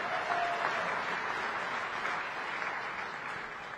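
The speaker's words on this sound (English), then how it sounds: "Please give the winners another round of applause." Steady, moderately distant applause from a large conference audience for prize winners at a regional heads-of-state summit, a sustained even patter of many hands with no speech over it.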